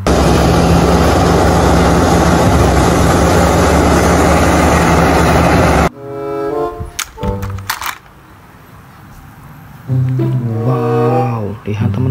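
A toy excavator gives off a loud, steady engine-like roar for about six seconds and then cuts off abruptly. Scattered clicks and a voice follow.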